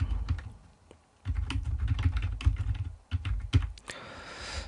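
Computer keyboard keys pressed in quick irregular bursts, including a Ctrl+A shortcut, close and clear with brief pauses between clusters of clicks and no speech.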